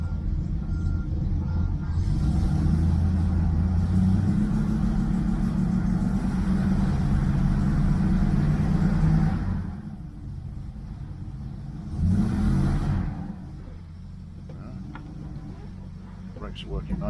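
A 1971 Triumph Stag car drives along with a steady, loud engine rumble and road noise, dipping briefly before surging again near the end, with no talk over it.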